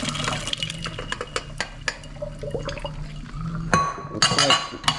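Boiled crabs are strained with watery splashing, pouring and sharp clinks of metal and glass, bursts of clatter coming and going close by.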